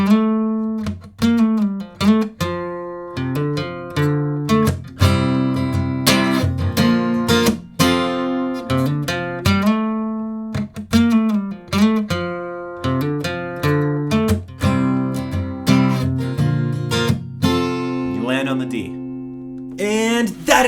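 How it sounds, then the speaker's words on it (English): An electric guitar plays the outro riff of a song twice through, with close, plucked rhythmic chords and notes in a steady repeating pattern. "Now in the outro, you actually do the whole riff twice."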